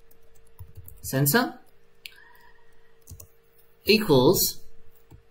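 Keys clack on a computer keyboard while Python code is entered for a LEGO SPIKE Prime robot, short bursts of close typing between which a person speaks.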